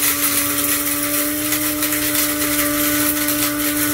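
An electric spice grinder whirs loudly and steadily with a high motor whine as it crushes peppercorns to a coarse grind. The noise holds unbroken throughout.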